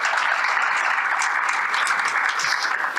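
An audience at a talk claps in a dense, steady round of applause, loud and close, with no voices over it.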